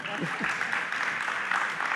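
Scattered audience clapping fills a community meeting room on flavored tobacco, a continuous patter of hands heard under a speaking voice.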